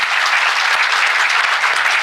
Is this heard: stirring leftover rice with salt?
no